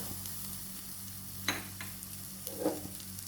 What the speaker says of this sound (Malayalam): നന്നായിട്ട് മൂക്കുന്നത് വരെ നമുക്കൊന്ന് ഇളക്കാം കേട്ടോ.